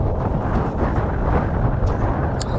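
Wind buffets the microphone on a beach at very low tide, a constant rough rumbling roar with no voices.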